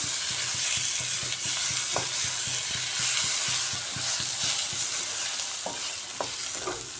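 Eggs are sautéed with spice paste for a coriander-leaf egg curry, a loud steady sizzle under rhythmic spatula scrapes and taps against the pan.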